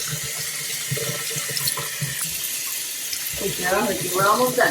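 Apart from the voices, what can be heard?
warm water running while bathing dogs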